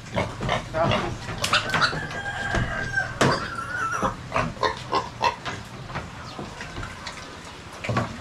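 Piglets grunt and squeal close by amid a busy farmyard, with roosters crowing and hens clucking around them and people talking intermittently.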